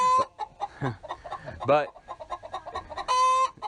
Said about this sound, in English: chickens have gotten stirred up